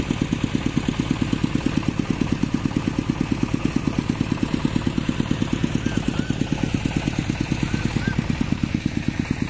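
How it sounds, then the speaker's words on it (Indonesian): Two diesel generators running to power a mini-class sound system at a sound system contest, a steady rapid mechanical throb close by with faint background noise. "ini sudah dihidupkan untuk dieselnya loh teman. Nah ini ada dua diesel ya."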